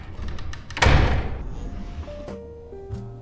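A door swings open as someone enters a paid bathhouse attraction in Matsuyama, Japan, giving a loud thump and rattle followed by fading room noise and a faint tonal chime.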